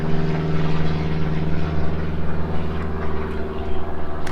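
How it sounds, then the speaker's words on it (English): An airplane passes overhead above a backyard bucket garden, a steady droning engine hum with a strong low tone that holds at even loudness throughout, with no voices. "airplane."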